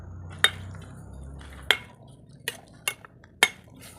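A metal lid lifted off a cooking pot of eggplant and bean curry, a series of sharp clanks and taps spaced over a few seconds, close and crisp over a faint low hum.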